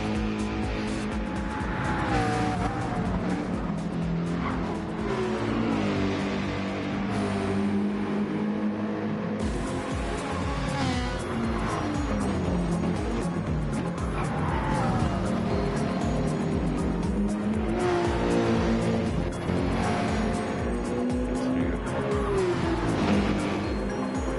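Gr3 race cars circulating on track in a racing video game, engines droning and revving continuously with intermittent tire squeal, loud and sustained, a brief dip in the mix partway through.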